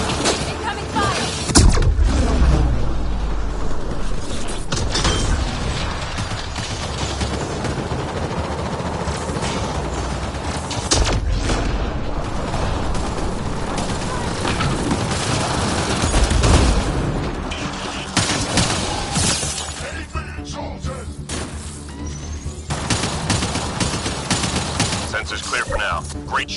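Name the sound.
gunfire in the video game Mass Effect Andromeda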